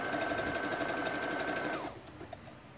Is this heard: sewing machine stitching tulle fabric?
yes